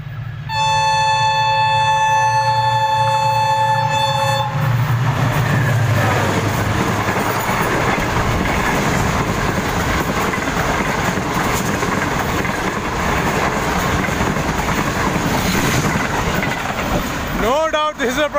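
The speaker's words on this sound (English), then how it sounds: "Five up Green Line Express, Pakistan's topmost priority train." Green Line Express, a priority passenger train hauled by an EMD locomotive near Lahore, Pakistan, sounds a long horn blast as it arrives, then roars past loudly and steadily, with rumbling wheels and rail clatter for the rest of the pass.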